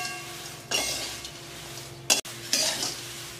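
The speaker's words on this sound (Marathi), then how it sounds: "आता याला बारीक गॅसवर 1 मिनिट गरम करू याला." Thin poha being stirred in a pan over low gas for chivda, with soft sizzling and scraping sweeps of a spoon, a few sharp metallic clinks against the pan, fairly quiet and close.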